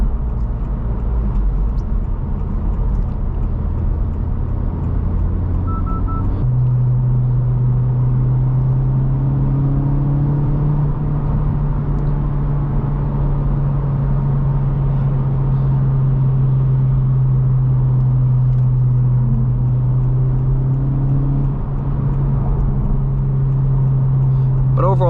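Inside a 2024 Honda Civic Type R with a six-speed manual, a steady engine drone and road rumble fill the cabin with a mild wash of wind noise as the car cruises, while the driver talks throughout.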